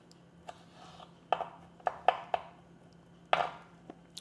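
Knife chopping a single garlic clove on a board, a handful of sharp, irregular taps spaced over a few seconds, fairly close, with quiet pauses between strikes and a low steady hum underneath.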